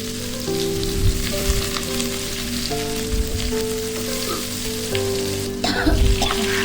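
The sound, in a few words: sautéing ginger, lemongrass, shallots and garlic in oil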